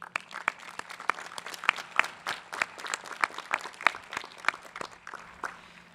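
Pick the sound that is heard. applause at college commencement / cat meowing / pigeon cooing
applause at college commencement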